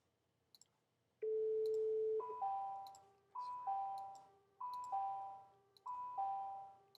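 A synthetic electronic bell sound effect, not a real school bell, plays a sustained tone followed by four repeating two-note chimes at an even pace, clear and alone.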